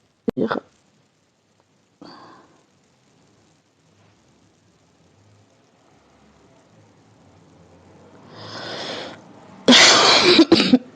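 A few short, sharp coughs come with pauses between them, close by and loud, separated by quiet stretches.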